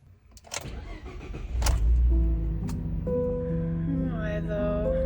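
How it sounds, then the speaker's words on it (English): A Ford F150 pickup with electrical trouble cranks with a few clicks and a short burst of starter whir, then catches and settles into a steady idle. The engine is close and fairly loud, with no talking over it. "Let's try firing the truck up again."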